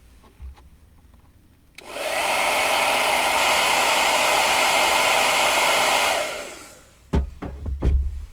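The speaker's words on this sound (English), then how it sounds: "we'll hit it with a hairdryer, but from a distance" A hairdryer blows from a distance onto airbrushed water-based paint on an RC car body shell, a loud steady whoosh that switches on abruptly, holds for about four seconds and winds down, followed by a few knocks.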